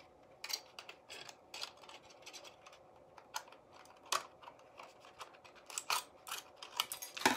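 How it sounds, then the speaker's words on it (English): Scissors snipping repeatedly in quick, irregular bursts of crisp clicks, close by in an otherwise quiet room. "These scissors are doing something weird here."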